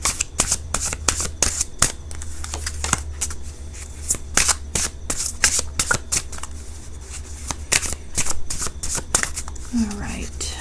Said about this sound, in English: Let me go ahead and shuffle these like this because these are so big.